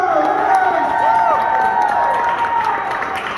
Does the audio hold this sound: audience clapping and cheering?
yes